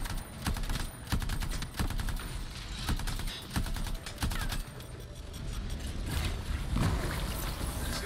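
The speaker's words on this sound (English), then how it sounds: "Let me just get my auto cannon going here." An auto cannon fires in the video game Anthem: sustained, rapid bursts of shots over dense in-game combat noise, with no talk.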